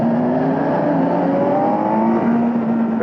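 A 2022 Kawasaki Z900 four-cylinder motorcycle engine pulls hard under acceleration, its steady loud drone rising gradually in pitch over wind roar, close and continuous with no talk.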